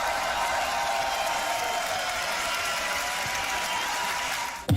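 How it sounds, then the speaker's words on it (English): A large audience at the Grand Beatbox Battle 2021 cheers and claps for beatboxer Rofu, a dense, sustained roar of applause that holds steady before cutting off abruptly. "Ladies and gentlemen, you can keep cheering for Rofu right now, though."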